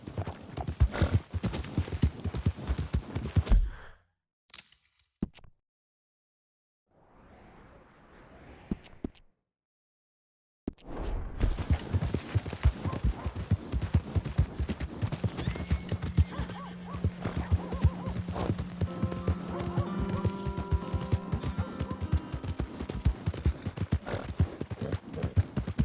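Steady horse hoof clip-clops trot along at close range in Red Dead Redemption 2, briefly dropping out to near silence midway, with a horse whinny and a faint tone later.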